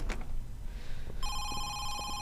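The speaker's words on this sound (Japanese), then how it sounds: "電話が鳴ってるよ" A telephone starts ringing in the video game Home Sweet Home, a single electronic ring entering partway through over a low background hum, clear but not loud.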